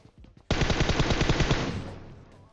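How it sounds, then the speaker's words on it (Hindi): Automatic gunfire from cheap old guns in PUBG, a loud rapid burst of evenly spaced shots lasting about a second and a half before trailing off into echo, preceded by a few softer clicks. "यहां पे मैं वही अपनी सस्ती पुरानी गने चला रहा हूं"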